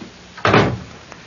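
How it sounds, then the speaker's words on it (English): A single wooden interior door shuts with a firm, close thud followed by a brief latch click, in an otherwise quiet room. "close the door"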